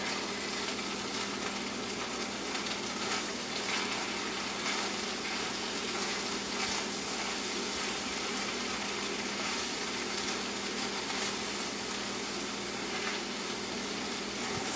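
Spinach cooks in a skillet of risotto with a steady, even sizzle that holds at a moderate level throughout, close by, with no talking over it.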